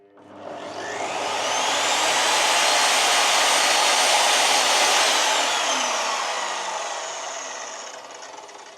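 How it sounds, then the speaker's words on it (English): Evolution R255 jobsite table saw motor ramping up smoothly to a loud steady whine, holding at full speed, then gradually winding down, close and without voices. "this saw isn't supposed to have soft start on it, that sounded like a soft start to me"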